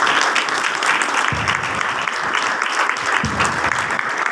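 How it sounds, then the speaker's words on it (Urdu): A church congregation applauding at an Easter service, dense continuous clapping from many hands filling the space loudly throughout, with no speech over it. "آج اس پاک کلام کے لیے زوردار تالیاں بجائیں گے"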